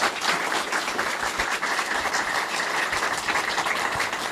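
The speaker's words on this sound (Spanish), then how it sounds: "Les pido un aplauso para este panel." An audience at a university event gives a panel steady applause, many hands clapping together in a continuous, fairly close wash of sound.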